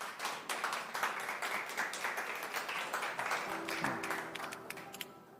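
An audience at a political party presidential primary vision presentation applauds to welcome a candidate, with steady dense clapping throughout at a moderate distance and no speech over it.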